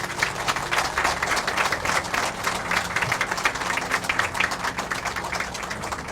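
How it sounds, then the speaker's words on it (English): A crowd applauds with dense, continuous clapping that holds at an even level throughout, at a sod-turning ceremony for a Courtyard by Marriott hotel in Guyana. "give this family a resounding round of applause"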